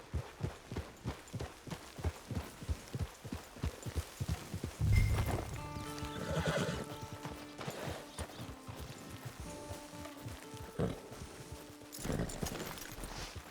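Horse hooves clip-clop in a steady rhythmic gait in the Western video game Red Dead Online, the rider's mount trotting close by as a soft musical score plays underneath.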